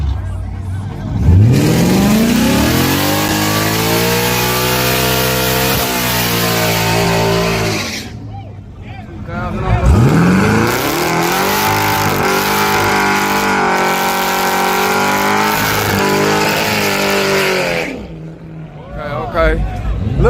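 A Corvette and a Mustang drag race, with two loud full-throttle launches whose engine pitch climbs steeply through the gears, each roar sustained for several seconds before cutting off; crowd voices mix in underneath.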